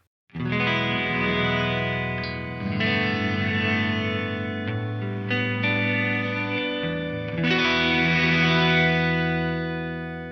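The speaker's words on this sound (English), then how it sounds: "If you turn gravity to inverse gravity, it's going to give you like a reverse or ramp up style reverb." An electric guitar runs through an Eventide H9 pedal set to an inverse gravity reverse reverb, its sustained chords swelling and ramping up, with new strums at intervals blooming into a wash of effect.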